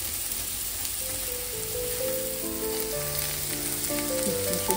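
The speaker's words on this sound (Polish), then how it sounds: "Posmażamy jeszcze chwilę." Garlic sizzles steadily in melted butter in a pan, a continuous close crackle and hiss that holds without any talking, with faint tonal music running underneath.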